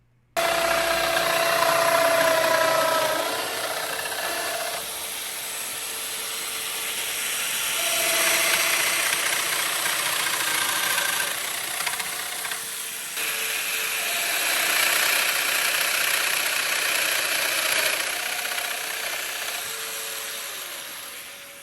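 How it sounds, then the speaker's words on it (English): A thickness planer feeds thick rough-sawn cherry boards, 8/4 or 6/4 stock, down to a smooth finish for a floating vanity. The loud, continuous machine roar swells and eases as each board passes through, without any talk. "we're just taking those cherry boards and planing them from a rough mill down to a fine finish"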